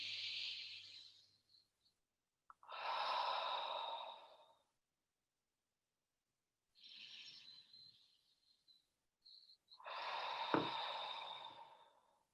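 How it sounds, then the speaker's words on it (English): During a guided stress-management breathing exercise, slow deep breaths come in two full cycles of long airy inhales and sighing exhales, close and quiet with silent pauses between them. "Breathe to the right side of your lungs."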